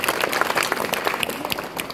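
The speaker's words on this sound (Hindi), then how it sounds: "एक बार भाई साहब के लिए जोरदार तालियां हो जाए" An audience claps loudly and steadily at an outdoor street play, a brief burst of dense applause.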